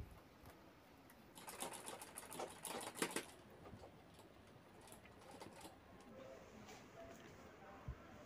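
A sewing machine puts a single line of stitching down the middle of a foam-padded jewelry bag with pockets, a short quiet burst of rapid stitching in a mostly hushed room.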